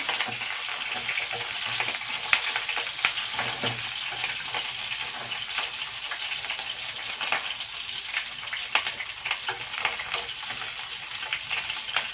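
Pigeon sautés in country ghee, a close, lively sizzle and crackle that keeps going throughout, with scattered stirring scrapes and pops and no voices.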